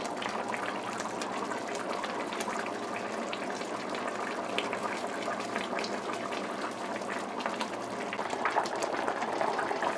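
Snook fish curry with tomato simmering in a covered pot, giving a steady, even bubbling and hissing boil that continues at a constant moderate level without talk.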